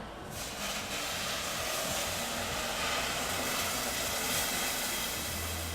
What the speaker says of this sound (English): hopefully you guys can hear this sizzle when it goes in the pot